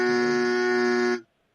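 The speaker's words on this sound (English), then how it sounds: "we don't give it a losing horn, though, but we do give it a buzzer, a buzz horn" A game show buzzer blasts once as a loud, harsh, steady electronic buzz lasting just over a second, then stops abruptly into silence.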